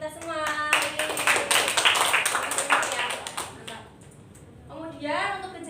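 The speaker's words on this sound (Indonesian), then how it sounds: "Beri tepuk tangan untuk kita semua." A class applauds during a microteaching session, a burst of many hands clapping near and loud for a few seconds, followed by a voice speaking as the clapping fades.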